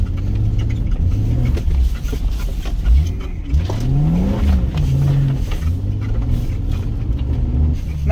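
A 1996 Jeep Cherokee XJ in a foot of snow, its engine rumbling steadily and rising and falling through several revs, close and loud with no talk.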